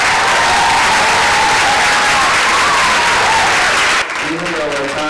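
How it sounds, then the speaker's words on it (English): Loud applause breaks out from an audience at a community farewell event, continuous and close, and cuts off sharply as a speaker resumes talking over the quieter tail. "Can we get a round of applause for him?"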